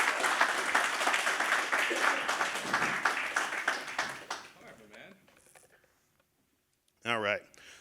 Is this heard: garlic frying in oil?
no